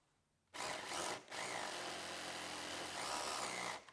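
A Flyslot slot car runs on its track with a steady high-pitched motor whine and buzzing tyre rumble, starting abruptly, pausing briefly after a second, then continuing loud and close before stopping.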